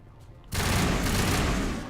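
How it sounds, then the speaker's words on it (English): Loud, dense gunfire from incendiary rounds in the video game Mass Effect erupts abruptly after a quiet half-second and roars on continuously to the end. "Look at those incendiary rounds. Burning bright and red."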